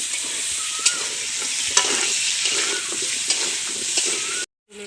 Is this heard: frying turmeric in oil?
yes